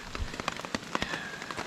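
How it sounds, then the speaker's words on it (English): Light rain falls on and off at a damp backpacking campsite in Carrabassett Valley, with scattered drops tapping close by on a surface at a faint, quiet level. "Alright, well, it's raining on and off here."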